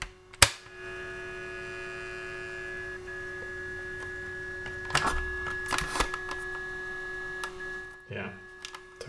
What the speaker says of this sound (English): when we close this, it'll try to engage the motor and just listen to that